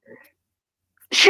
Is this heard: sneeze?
yes